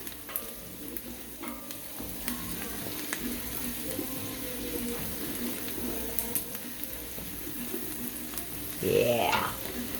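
Garlic sautéing in a pan gives a soft, continuous frying hiss with occasional light stirring clicks, and a brief rising squeak near the end.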